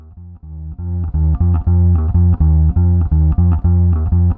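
A bass guitar plays a short repeating riff, looped over and over at a steady rhythm, loud and close with no voices.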